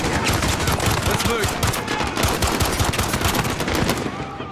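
Rapid automatic gunfire rattles in Call of Duty: Modern Warfare, dense repeated loud bursts packed tightly together with no pause.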